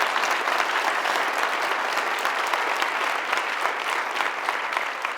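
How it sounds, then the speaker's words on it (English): A university audience at a State of Our University address gives a sustained round of applause for philanthropic supporters, dense and even clapping from a large crowd with no break. "I'd ask you to give them a round of applause for our continued philanthropic support"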